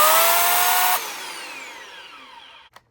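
Lidl Parkside electric chainsaw running at full loud whine, then cutting out abruptly as the brake engages and spinning down over a couple of seconds, ending in a small clunk.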